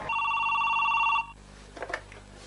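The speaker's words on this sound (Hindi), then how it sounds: "जानी भाई फोन।" A telephone bell rings with a bright electronic trill for about a second, then stops, followed by faint rustling handling noises.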